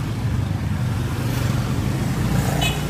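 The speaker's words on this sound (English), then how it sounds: "there's a lot of cars and just so many motorbikes" Dense peak-hour traffic in Jakarta, with cars and motorbikes rumbling steadily close by and a faint higher whine of an engine near the end.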